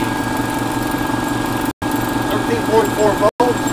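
A Franklin aircraft engine idles steadily at close range, a continuous low rumble with a faint whine above it, broken by two very short dropouts.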